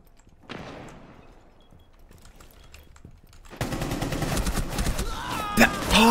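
Rapid automatic gunfire in Rainbow Six Siege, with a few scattered shots at first and then a loud, sustained burst of fire. A voice talks under the shooting.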